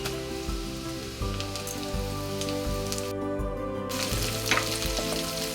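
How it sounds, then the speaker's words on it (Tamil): Onion sautés in a pan for rava khichdi, a constant, fairly loud sizzle and crackle of hot oil that carries on under background music. "வெங்காயம் கொஞ்சம் கலர் சேஞ்ச் ஆகிற வரைக்கும் வதக்கி விட்டுட்டு"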